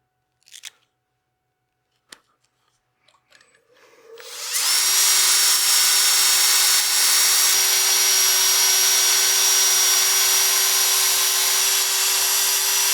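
A power sander runs on a turned wooden cake stand at 180 grit, starting after a few faint clicks and holding a loud, steady high whine close by for the rest of the clip, with no talking.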